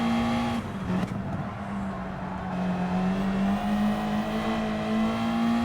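Race car engine in Gran Turismo, driving through a lap with throttle lifts: a steady, loud droning engine note that dips briefly and then climbs again, with no talk.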